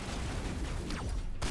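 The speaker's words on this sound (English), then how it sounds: "Shotgun." Shotgun fire in the video game Mass Effect comes through as quiet, muffled blasts over a dense noisy background, brief and without any voice on top.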